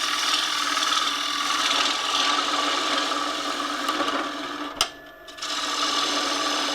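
A wood lathe spins a cracked wooden blank held on a screw center by its tenon as a turning tool cuts it down, making a continuous close scraping rush that breaks off briefly near the end before resuming.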